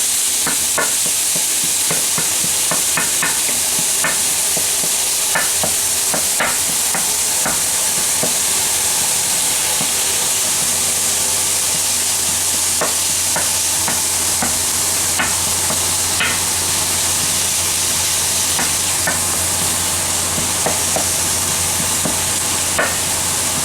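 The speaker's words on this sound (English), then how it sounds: "I'm just going to start by browning my meat." Ground beef browns in a pan with a steady, dense sizzle, and a utensil scrapes and taps against the pan now and then as the meat is broken up. No one speaks.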